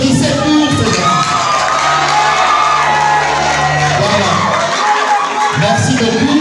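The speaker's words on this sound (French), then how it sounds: "Applaudissez pour ces gens." An audience at the closing event of a film festival in Goma applauds and cheers, a loud, continuous roar of clapping with shouts and whoops layered throughout, while a voice can be heard within the crowd noise.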